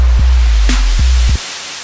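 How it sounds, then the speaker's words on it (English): Loud, steady broadband hiss of white noise from the iZotope Stutter Edit audio plugin's generator, with a low hum and a few clicks, cutting off abruptly near the end. "Stutter generator is a white noise generator."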